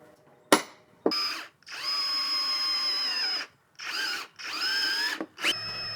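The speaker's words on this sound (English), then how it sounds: "With all 4 holes drilled in the floor pan" A power drill bores holes through the steel floor pan of a 2018 Ford Transit van, loud and close, in several bursts of steady whining with short pauses between them.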